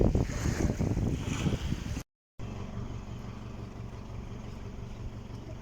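Strong wind roars and waves churn around a boat on a reservoir during rain, with a brief silent gap before the blustery noise continues.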